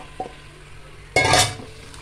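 Chicken pieces drop into a pan of ground masala with a sudden sizzle and scraping stir of a spoon against the metal, after a small clink, loud and close with no talking.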